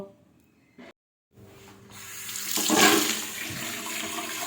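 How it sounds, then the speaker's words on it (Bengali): Water gushes steadily into a sink basin being cleaned, swelling louder and hissing with some rubbing, after a brief quiet gap. "এখন আমি এই বেসিনটাকে আগে ভালো করে পরিষ্কার করে নিই"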